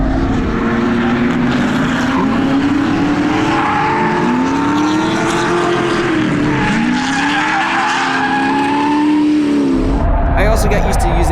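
A car drifts at full throttle in second gear on a track, its engine held near redline with rising and falling tone under loud continuous tyre squeal, and a voice speaks over it.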